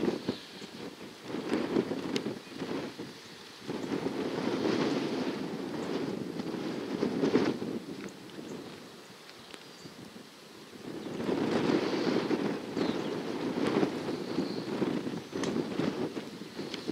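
Steady wind blowing across an open golf course during a collegiate championship round, a continuous broadband rush that swells and eases in gusts, fairly loud and up close, with no talk.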